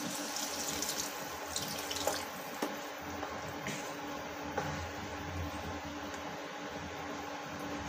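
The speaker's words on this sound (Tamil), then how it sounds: "இப்போ வந்து தேவையான அளவு தண்ணி ஊற்றிக்கலாம்." Water being poured from a tap into a pot of mushroom gravy in a home kitchen, a steady continuous splashing rush with a few faint clinks, close and alone without talk.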